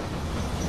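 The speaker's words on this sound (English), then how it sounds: "Just imagine how much noise this train is gonna make." A train in The Walking Dead video game gives a brief burst of dense, rumbling rail noise, loud and close, with no talking.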